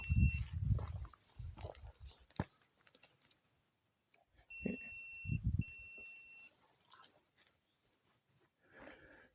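A phone gives a few thin, steady high-pitched beeps outdoors on a rural property, with footsteps, rustling and voices around it.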